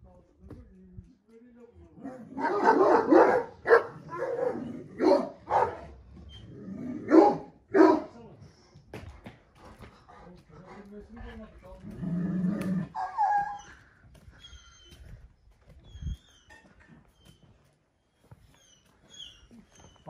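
A dog barks in short bursts and growls low, with people talking over and around it nearby.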